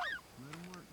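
Swans call while flying overhead during a North Carolina swan hunt, giving a few faint, honking, bugling notes in quick succession from some distance.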